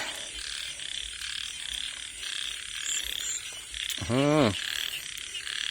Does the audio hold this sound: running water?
no